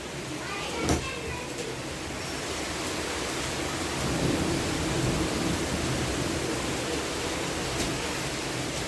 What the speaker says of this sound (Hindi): एकदम से इतनी तेज आंधी आई है ना, इतनी तेज आंधी आई है कि बस पूछो मत।